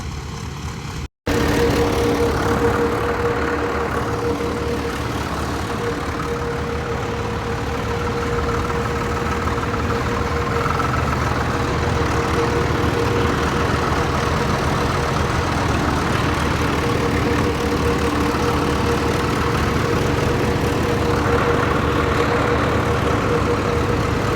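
A tractor engine drones steadily and loudly after a brief cutout, a constant low rumble with a steady tonal hum and no speech over it.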